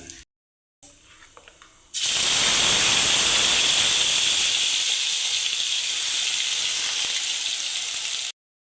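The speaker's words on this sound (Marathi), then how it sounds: "त्यानंतर आपण बारीक वाटलेली पेस्ट यामध्ये टाकून घ्यायची आहे." Ground spice paste hits hot oil with mustard seeds and cumin, bursting into a loud, close sizzle and hiss that holds steady for several seconds before cutting off.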